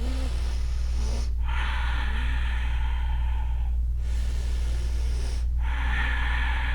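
Slow, deep breathing held in a yoga plank pose, with long airy exhales over a constant low background hum.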